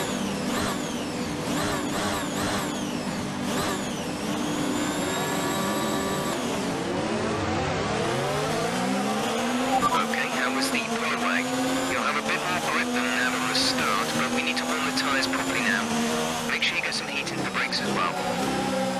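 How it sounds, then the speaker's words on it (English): An F1 car engine in F1 2019 revs repeatedly, its pitch sweeping up and down in rising and falling whines over about nineteen seconds, loud and continuous, with a voice speaking over parts of it. "Even de motor testen"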